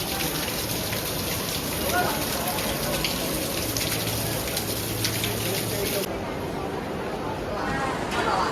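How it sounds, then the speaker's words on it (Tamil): Indoor waterfall pouring down inside the Marina Bay Sands shopping mall in Singapore, a steady dense rush of falling water that fills the space continuously, with faint crowd chatter mixed beneath the roar. "அது கொட்டுது அருவி."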